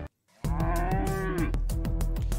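A cartoonish cow moos loudly in the video game Milkmaid of the Milky Way, a single drawn-out lowing call following a brief silence, with clicky game sounds around it.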